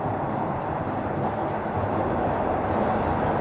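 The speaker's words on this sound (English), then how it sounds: "we're about to roll into Queen's Park Station" Southbound Toronto Line 1 subway train on the University side rolling into Queen's Park Station, a steady loud rumble of wheels and car noise throughout, with faint squeal tones near the end.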